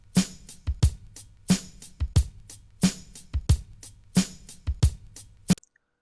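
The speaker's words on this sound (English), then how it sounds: "That drum break sounds like this." Solo drum break sample with punchy kicks and crisp snare hits in a repeating loop, several bars played alone, loud and close, then cutting to silence at the end.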